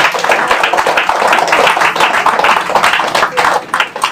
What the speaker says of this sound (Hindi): ताली बजा के परमेश्वर का नाम को महिमा